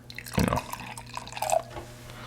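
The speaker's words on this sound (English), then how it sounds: "I'm going to pour some into the glass." Beer splashes and trickles from a can into a glass with a brief gurgle, close by, then a few lighter drips and fizzing pours.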